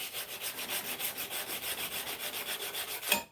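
A knife blade is sanded by hand in steady back-and-forth strokes, about twenty even rasping passes in a continuous rhythm, close and clear, with a brief louder scrape at the end.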